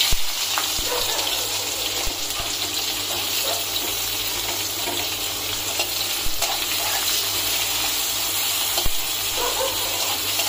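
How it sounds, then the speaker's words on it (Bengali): Sliced onion and two bay leaves fry in hot oil in a wok, giving a loud, continuous, even sizzle with occasional scraping clicks from stirring and no voices. "এবার আমি তেজপাতা দেব। এই যে দুখানা তেজপাতা দিলাম, দিয়ে আমি এবার এই পেঁয়াজটা দিয়ে দেব।"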